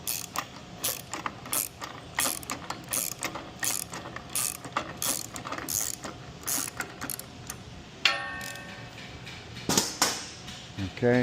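Atlas Trap Company AT250 trap thrower carousel spun by hand with a socket on its nut, giving a run of close, repeated ratcheting mechanical clicks that loosen the nut, with a brief shift in tone near the end.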